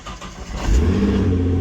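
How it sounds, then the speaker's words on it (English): Infiniti G35 cold start: a brief starter crank that catches into a deep, loud engine roar and settles into a rough, high idle, heard close and alone. "Let's get a cold start."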